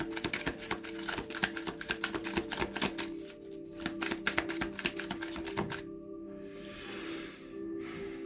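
Tarot cards drawn and laid out in a rapid run of crisp snapping clicks and flicks, close and fairly quiet, that thin out into a softer, sparser hush near the end.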